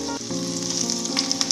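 Finely chopped ginger sizzles steadily in hot oil in a pan, a dense, continuous frying hiss with brighter crackling spatters toward the end, heard alone without speech.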